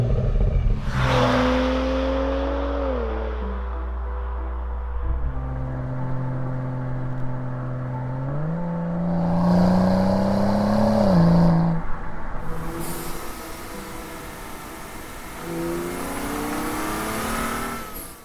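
A BMW E90 335i with the N55 twin-scroll turbocharged engine drives and accelerates hard through several gears, its engine note rising and dropping at each shift, with a loud whooshing surge in the later pulls.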